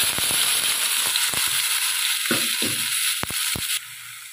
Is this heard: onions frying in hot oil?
yes